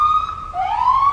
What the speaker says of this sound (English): There's an Oak Hill police car, I believe